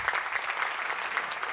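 An audience at a national literary prize ceremony applauds, with a brief dense burst of many hands clapping at a steady level, no voices.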